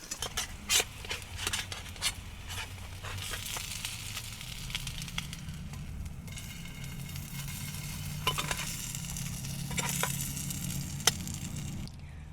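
Melting cheese sizzles and crisps in a small camping pan in a car, a steady close frying hiss with occasional sharp crackles and scraping stirs, no talking.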